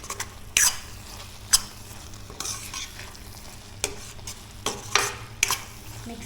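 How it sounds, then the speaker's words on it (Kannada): Squid sukka, a Mangalore hotel-style dish, being stirred and mixed in a pan. Scraping strokes repeat every second or so over a steady low sizzle, with no talk. "ಇದನ್ನು ಚೆಂದ ಈ ಥರ ಚೆಂದ ಮಿಕ್ಸ್ ಮಾಡಬೇಕು."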